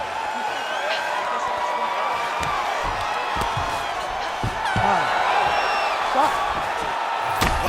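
A virtual arena crowd in the UFC 5 fighting game roars and cheers after a title fight ends, with whoops and swelling noise while a commentator talks over it.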